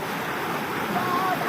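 Stream water rushes steadily over slippery rocks near Nanjaipuliyampatti, a continuous close wash of broadband noise with light wind and no clear voices.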